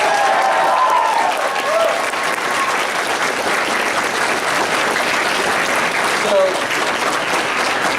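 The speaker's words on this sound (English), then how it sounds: "Let's give Mark and Fred a round of applause" Crowd applause for Mark and Fred at a Super Saturday event, a steady, full wash of many hands clapping with occasional cheers and voices beneath, sustained throughout.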